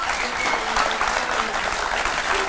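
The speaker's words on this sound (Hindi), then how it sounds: "तो ये तो स्टूडियोज की तालियों की गड़गड़ाहट है" A studio audience at a Hindi TV talk show applauds loudly and continuously, a dense wash of clapping with no gaps.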